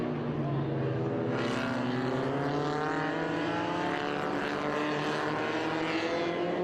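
A vintage MGB race car passes on the Circuit of the Americas track during an SVRA race, its engine droning steadily and rising in pitch as it sweeps by, with a commentator's voice running underneath.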